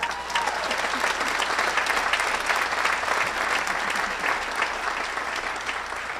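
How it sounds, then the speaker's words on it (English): An audience at a memorial celebration of a life breaks into strong, sustained applause, many hands clapping close and loud at a steady level for several seconds, with a faint crowd murmur beneath. "Give a round of applause for Derek Livingston"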